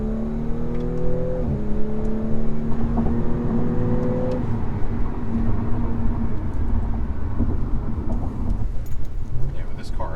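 A B9 Audi S4 drives a mountain road, its engine a steady low drone with shifting tones as it accelerates and changes gear, while people talk inside the car throughout.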